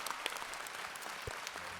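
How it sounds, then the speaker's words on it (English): A few people in the front row of a convention audience give scattered, light claps, brief and moderately close, with no one talking over them. "A few claps in the front row there on that."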